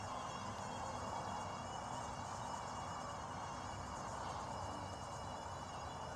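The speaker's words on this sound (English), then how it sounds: "Ken said that noise is the reduction gears" A Yarbo robotic lawn mower's reduction gears give off a steady, fairly quiet whine with an insect-like buzz. It holds unbroken and even through the whole stretch.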